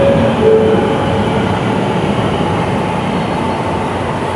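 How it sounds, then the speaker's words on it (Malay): Bukit Jalil LRT light rail train near the national stadium, a loud, steady rolling rumble with a brief high squeal at the start, heard alone throughout. "LRT Bukit Jalil."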